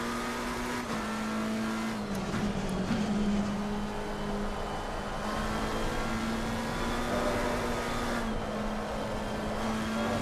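A race car in Assetto Corsa Competizione slides around the Spa circuit, its engine droning at a steady high pitch with faint tire scrub underneath, loud and continuous throughout.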